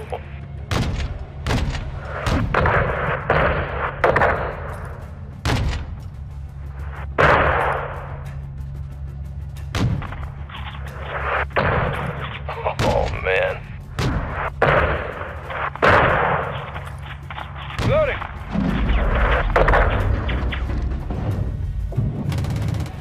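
Gunfire and explosions hit a convoy in Call of Duty MW2, with dense sharp shots cracking repeatedly over booming blasts and a constant low rumble across the whole stretch, loud and close.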